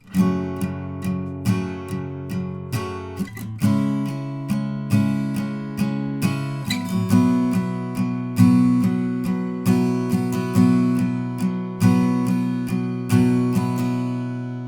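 Steady acoustic guitar strumming through the pre-chorus chord progression of a song, with even rhythmic strokes and a chord change partway through, played alone without voices.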